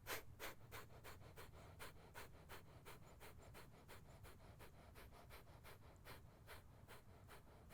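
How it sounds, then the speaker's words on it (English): Rapid Kapalbhati yoga breathing, a steady series of about twenty sharp, forceful exhalations driven from the belly, evenly paced and close, with no talking over them. "Breathe in and forcefully using your belly"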